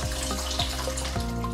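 Coolant drains from a 2013 Honda CBR1000RR motorcycle, a close, steady trickle of liquid pouring and splashing, with a few brief changes in the flow.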